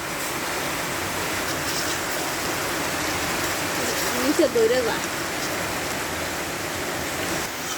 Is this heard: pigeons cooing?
no